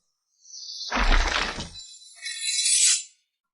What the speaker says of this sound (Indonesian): Es membeku, hancur.